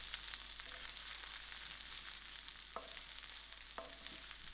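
Coconut and raisins frying in a pan, a steady soft sizzle with two sharp stirring clinks of a utensil against the pan, no talking.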